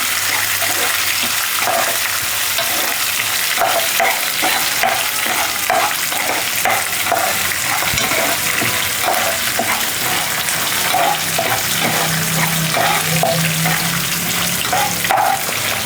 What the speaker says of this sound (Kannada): ಸಣ್ಣಕ್ಕೆ ಹಚ್ಕೊಂಡಿರೋ ಶುಂಠಿ ಇದಿಷ್ಟು ಹಾಕ್ಕೊಂಡು ಅದೇ ಸ್ವಲ್ಪ ಲೋ ಫ್ಲೇಮಲ್ಲಿ ಇನ್ನೊಂದು ನಿಮಿಷ ಹುರ್ಕೊಳ್ಳೋಣ